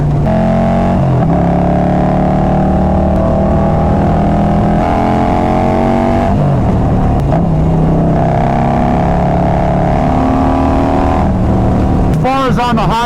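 A Harley-Davidson Road Glide motorcycle with carbon fiber wheels accelerates hard through the gears, its loud engine climbing in pitch and dropping at each shift, heard close over road and wind noise.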